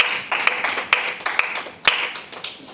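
A church congregation claps in a rapid, irregular patter of hands that stays moderately loud through the whole stretch, with no talking over it.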